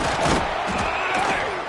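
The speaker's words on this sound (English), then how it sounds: "Listen to this crowd just shaking the girders of this place trying to help their defense" A stadium crowd roars loudly and steadily at a football game as the home defense defends near its own goal line, a dense, continuous wall of noise with scattered shouts.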